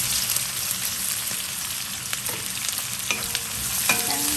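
Chopped onion frying and sizzling in hot oil after asafoetida went in, with a steady hiss and occasional stirring clicks, heard close up with no talking, while dosa is being made.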